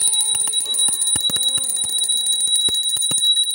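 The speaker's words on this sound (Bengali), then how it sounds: "ভোগ নিবেদন করার আগে প্রদীপ জ্বালিয়ে ঘণ্টা বাজিয়ে পুজো করে নিচ্ছি" A small hand bell rings continuously with rapid, bright strikes during a home puja before a food offering to Laddu Gopal. The clanging is close and loud with no talking.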